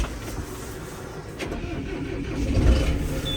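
A John Deere 6330 Premium tractor with 7944 engine hours starts up nearby. A low diesel rumble builds and grows louder, ending in a steady running note, with no voices.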